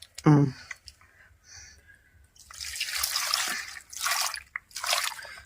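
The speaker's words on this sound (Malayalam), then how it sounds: "ഈ പാത്രമാണ് നമ്മൾ ശകലം വെള്ളം ഒഴിക്കാം" Water is poured into a cooking pot while making traditional Kerala village-style aviyal, with mango among the ingredients. A short voice opens, followed by several bursts of splashing and trickling pour, loud and close.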